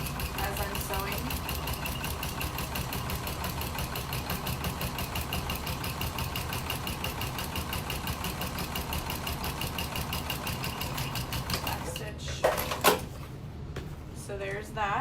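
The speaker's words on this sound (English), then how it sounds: "I'm just kind of pulling these layers away from each other as I'm sewing" A sewing machine stitches through layers of a tote bag in a steady, rapid mechanical chatter that runs nearly unbroken, then stops near the end with a few clunks.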